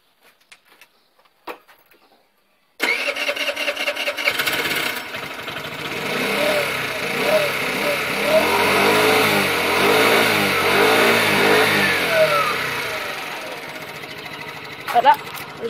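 An MBK Booster scooter engine starts after a few quiet clicks and knocks, then idles and revs with a buzzing two-stroke rattle that rises and falls, loud and close, with a short clatter near the end.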